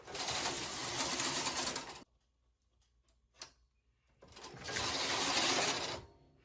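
A Brother punch-card knitting machine produces two loud bursts of mechanical clatter from the needle bed and carriage, separated by a quiet gap with one short click, close and without talk.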